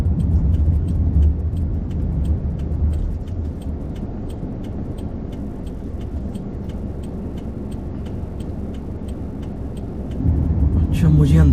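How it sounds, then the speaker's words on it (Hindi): Road traffic rumbles at a busy city intersection in Saskatoon, Canada, with cars passing nearby in a steady low roar, a brief hiss like an air brake, and a louder swell of passing vehicles near the end. "मुझे अंदाज़ा नहीं था कि ट्रैफिक जो है ना वो इतनी ज़्यादा होगी"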